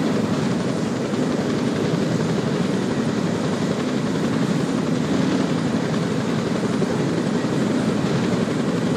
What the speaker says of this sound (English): so just get in the helicopter